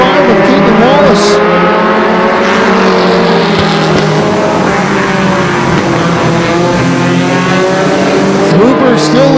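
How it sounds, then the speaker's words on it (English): Mini stock race cars roar around Flamboro Speedway, their engines droning and shifting pitch as they pass close by in a steady loud pack, with a commentator talking over the racing. "Hooper continuing to lead with about a car length advantage over the 45 of Caitlin Wallace."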